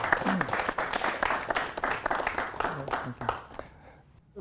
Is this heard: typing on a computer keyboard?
no